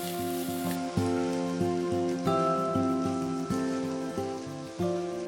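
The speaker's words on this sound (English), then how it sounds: "Red onions. Saute for 3 to 4 minutes." Red onions sauté in a pan with a steady sizzle. Rhythmic tonal music plays loudly over the quiet frying.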